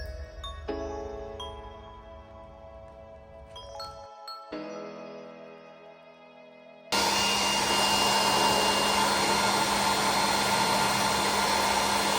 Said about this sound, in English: keep on stretching it while doing the hair dryer.